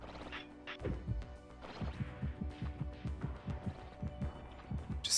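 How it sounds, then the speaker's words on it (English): Heartbeat sound effect in the video game Baroque, a steady repeating thump-thump pulse with deep low thuds under faint background game sounds. "I think the heart beating is a little annoying."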